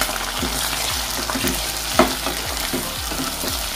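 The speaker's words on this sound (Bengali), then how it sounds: "এবার সমস্ত সবজিগুলোকে আবার একটুখানি আমি নাড়িয়ে চাড়িয়ে নিচ্ছি" Vegetables for shahi paneer being stirred and fried in a pan: a steady loud sizzle with rhythmic spatula scrapes about every half second, close and alone.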